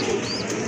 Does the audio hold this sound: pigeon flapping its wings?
yes